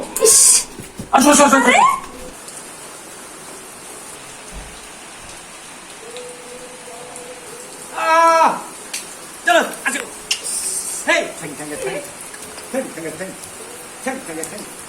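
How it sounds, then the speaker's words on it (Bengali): Heavy downpour outdoors makes a steady soft hiss in the background, while people speak and laugh in loud bursts over it throughout. "বাইরে খুব ঝুম বৃষ্টি বৃষ্টি হচ্ছে"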